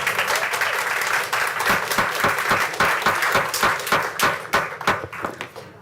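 Audience clapping in a city council meeting room after a public comment, loud and close with distinct individual claps over a dense wash, gradually thinning and fading toward the end.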